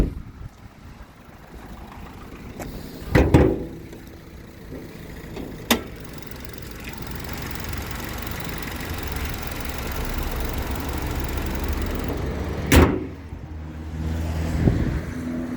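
A 2008 Nissan Qashqai 1.6 petrol engine idles under an open hood with a low steady rumble, close by, with a few sharp knocks and clicks over the drone.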